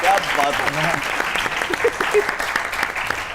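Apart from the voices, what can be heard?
studio audience applause on a comedy show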